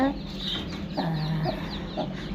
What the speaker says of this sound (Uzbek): Bizni inkubatorimizdan chiqqan tovuq mana ko'rib bo'lgan